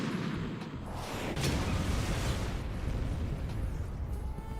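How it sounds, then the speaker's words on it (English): A large explosion in Metal Gear Solid 2 erupts as a loud, sustained rumbling roar with crackling debris that stays dense and heavy for several seconds, with no talk over it. "Seemed like a bigger explosion than I thought it would be"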